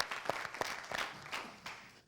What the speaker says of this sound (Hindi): तालियां बजाएं रोहिणी जी के लिए